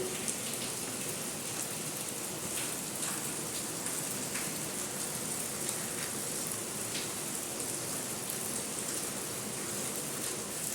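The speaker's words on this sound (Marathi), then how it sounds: "दारी पावसाचं वातावरण आहे जोराचा पाऊस पडत आहे" Heavy rain pours down steadily, a dense continuous hiss with scattered drops striking surfaces nearby, no voices.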